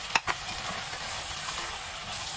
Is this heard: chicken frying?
yes